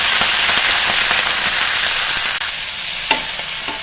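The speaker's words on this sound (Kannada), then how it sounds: "ಇದು ಪಾಲಕ ಹುರ್ಕೋತೀನಿ" Spinach (palak) fries in a hot pan with loud, continuous sizzling and crackling, punctuated by occasional scrapes and clinks of stirring, close and without talk.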